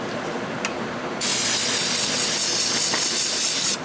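Carburetor cleaner sprays in a long, loud, steady hiss onto the carburetor of a Briggs & Stratton 5 hp Quantum engine, after a few short hissing bursts.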